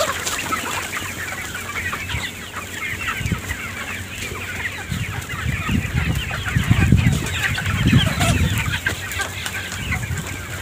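Chicks and hens cluck and peep steadily while pecking at scattered grain in a swept farmyard, a busy layered chatter that swells louder midway with denser clucking close by.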